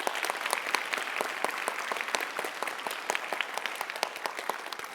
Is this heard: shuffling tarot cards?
no